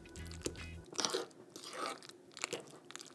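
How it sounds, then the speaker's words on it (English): A fork mashing avocado into chunky guacamole, giving wet, squelching crunches in a few irregular bursts, close and fairly loud, with no one talking over it. "Take your fork and begin mashing."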